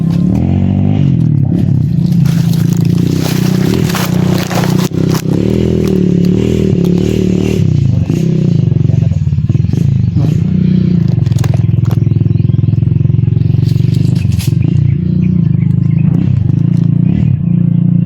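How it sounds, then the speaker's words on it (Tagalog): Several motorcycles pass one after another, a loud, steady engine drone with rising and falling passes close by, broken by scraping clatter and brief crackles. "Parang maraming motor."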